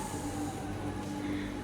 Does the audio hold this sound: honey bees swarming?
no